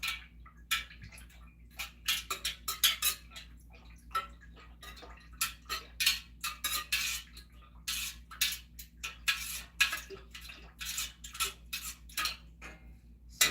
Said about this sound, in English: you just want to let it heat and stir the oil and everything together